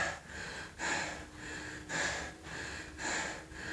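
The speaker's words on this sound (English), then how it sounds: "Still breathing hard." Heavy, labored breathing during a home power circuit workout on a wood floor, with four loud, close breathy bursts in a steady rhythm and no talking.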